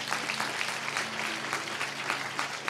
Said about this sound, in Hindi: ताली बजाएंगे इसके लिए प्रभु को